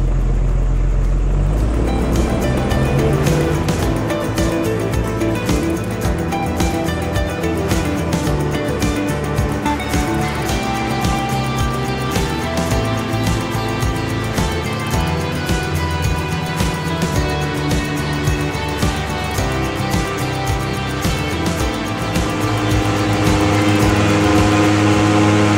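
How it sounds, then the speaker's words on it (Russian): A Raptor E-AIR 590 boat's outboard motor drones loudly and steadily, its pitch rising gradually as the throttle is eased up without the air-lift system, with water noise underneath. "Мы сейчас плавно будем добавлять газ без поддува."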